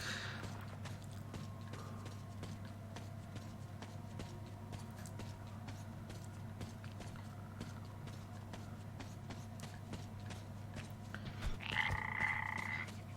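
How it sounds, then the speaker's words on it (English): Frogs croak in a continuous chorus in the video game Metro Exodus, as steady low pulsing croaks over an ambient hum, with a brief brighter electronic tone near the end. "Oh, there's a lot of frogs."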